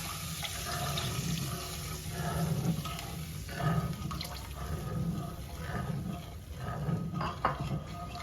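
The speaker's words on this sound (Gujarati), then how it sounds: "તો હવે આપણે આમાં દૂધ નાખીશું।" Milk poured into semolina roasted in desi A2 cow ghee in a pan, giving a steady close liquid hiss and bubbling sizzle with no talk over it.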